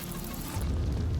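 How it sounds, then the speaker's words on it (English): Explosion in the Hamstermind puzzle game, a deep booming burst with rumbling low end that sustains briefly after the blast. "Explosions."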